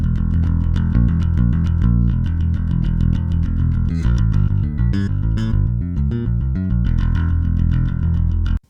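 Clanky, distorted thrash metal bass guitar recorded direct, a loud, dense run of fast picked notes with a bright metallic attack, steady and unbroken until it cuts off abruptly at the end.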